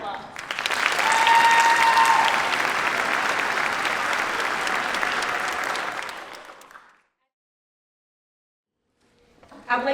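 At a high school all-county orchestra concert, the audience breaks into full, sustained applause that swells, holds for several seconds, then dies away into silence before a faint new sound at the very end.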